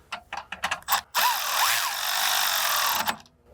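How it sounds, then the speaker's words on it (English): A 13mm socket on a ratchet snugs the sway bar end link nut on a 2022 VW Golf R Mk8 rear suspension, with a few quick clicks followed by a steady sustained whirring run of about two seconds, close and fairly loud. "We'll take our 13mm socket again,"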